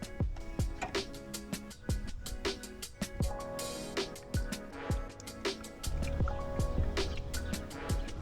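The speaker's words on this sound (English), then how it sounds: "this is how I plan on filling my radiator before I jam it back on there" Water pouring and dripping into a car radiator while it is being refilled, with repeated close splashes, drips and gurgling trickles in an irregular rhythm and no talk.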